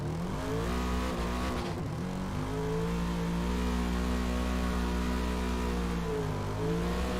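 Car engine revving in a drifting video game, a continuous loud whining drone that climbs and dips in pitch as the throttle changes, with no speech over it.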